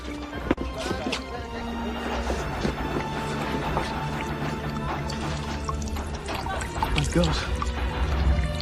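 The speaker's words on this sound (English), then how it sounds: "There's blooming water coming in!" Water pouring and flooding into rooms aboard the sinking Titanic, a loud continuous rushing gush with splashes and crashing, a thud near the start and a voice exclaiming over the torrent.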